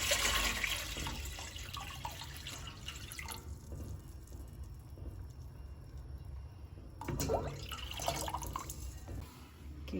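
Water runs from a tap, a splashing flow that is loud at first, eases to a softer trickle, then surges again before settling, close by with no voices.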